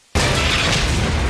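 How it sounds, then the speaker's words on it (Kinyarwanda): An explosion in an action film scene bursts in suddenly after a moment of silence and becomes a loud, sustained roar with rumbling debris that fills the whole span, with no talking. "dore ibisasu"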